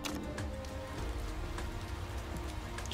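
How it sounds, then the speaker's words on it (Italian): Steady rain from the Motorsport Manager racing game, a dense continuous patter of drops on a surface during a wet Friday practice session in Milan, filling the scene evenly with no voices. "Ci sarà sempre più pioggia."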